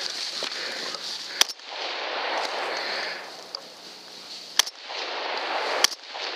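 Sharp rifle shots during a hunt for wild hogs after a sounder crossed a river: three distinct cracks spaced a second or more apart, over a steady outdoor hiss.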